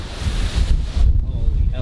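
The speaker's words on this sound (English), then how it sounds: "Holy hell, it's windy here." Strong wind buffets the microphone at a sandy beach motocross track, a continuous low roar with gusts that swell and ease, close and fairly loud throughout.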